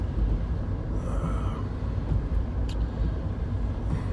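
A car driving along a road on the way to the Georgia Guidestones, heard from inside as a steady, loud low rumble of engine and tyre noise throughout, with no talk.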